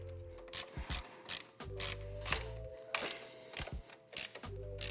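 Ratchet wrench tightening bolts on a Honda CB360 motorcycle: close, loud bursts of rapid clicking come in short repeated strokes with brief pauses between them, and a faint steady hum runs underneath.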